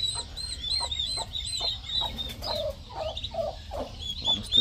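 A hen clucks repeatedly in a sheltered coop corner on a family animal yard, short throaty calls in an uneven rhythm, close and moderately loud, with other fowl faintly chattering behind.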